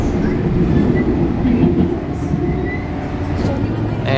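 A San Diego trolley train runs steadily from start to end, a continuous rumble with light wheel clatter and rail noise, near and moderately loud, with faint background sounds mixed in.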